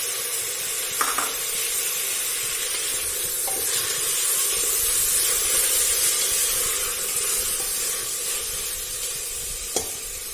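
Chopped tomatoes with salt sauté in a pan for chicken biryani, giving a continuous bright sizzle and hiss with a few faint clicks of stirring, steady throughout and with no talking.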